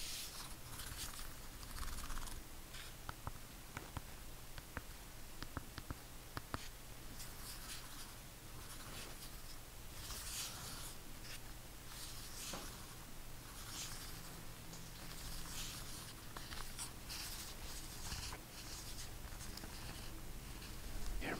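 Buttons on an OP-Z synthesizer pressed one after another, a steady run of small soft clicks and taps heard up close in a quiet room, with no talking.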